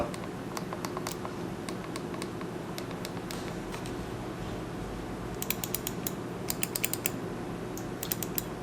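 Buttons on a Logitech G600 MMO gaming mouse are clicked repeatedly, producing crisp, close, irregular clicks, some in quick clusters, over a steady low background hum.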